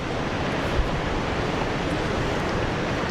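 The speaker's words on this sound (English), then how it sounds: "Now there's the wind." Strong wind rushing across a cliffside walkway at Caminito del Rey near Malaga, Spain, a loud, continuous broadband roar buffeting the microphone with no voices.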